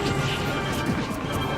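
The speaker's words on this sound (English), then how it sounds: "Crispy charging the smash open." A charged smash attack from Super Smash Bros lands with a dense crashing whack during a doubles match, a short loud burst over steady game noise with no clear talk.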